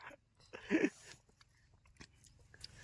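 Fresh watermelon eaten outdoors in a field: one crunchy bite near the start, then faint wet chewing against a quiet background.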